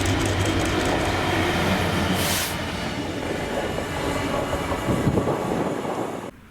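A Class 66 locomotive, 66302, passing through Paisley Gilmour Street station, a loud continuous rumble with clattering wheels and a brief squeal, the roar staying close and steady throughout.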